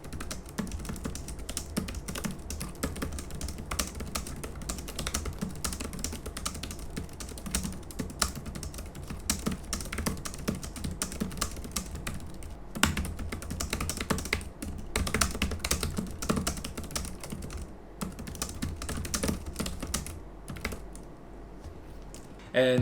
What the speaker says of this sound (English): here is what the keyboard sounds like when typing